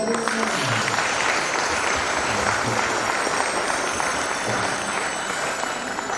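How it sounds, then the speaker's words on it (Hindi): Wedding guests clap together in a dense, steady burst of applause that fills the whole stretch, loud and close with no pause. "ताली बजाइए।"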